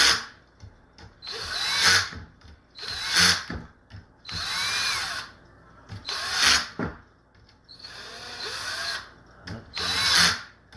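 Cordless drill driver set to its lowest torque tightening screws on an e-bike battery, six short whirring bursts rising and falling with brief gaps between, close and clear.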